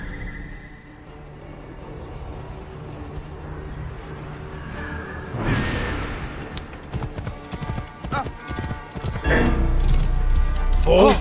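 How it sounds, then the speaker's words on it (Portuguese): Horse hooves clip-clop in the Assassin's Creed Origins video game, a steady trot that breaks into heavier galloping thuds, with someone talking over it and game effects in the background. "O cavalo tá ali. Deve ser o cavalo de Mered."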